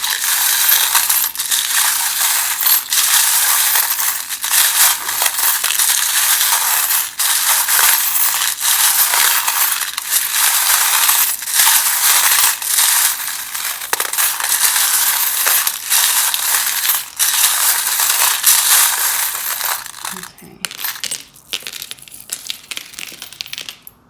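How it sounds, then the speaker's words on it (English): Tarot charms and dice shaken together, a long run of loud, rapid metallic rattling and clattering that continues steadily for about twenty seconds before thinning into a few scattered clicks. "the charms will give us some more information, and then we'll roll your dice"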